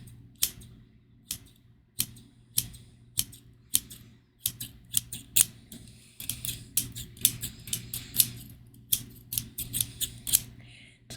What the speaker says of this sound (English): The second one is a pair of safety scissors.